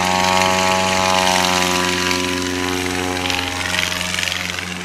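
A STOL light airplane takes off at the National STOL Series in Brainerd, its engine and propeller a loud, steady drone throughout that rises slightly in pitch, then eases a little toward the end.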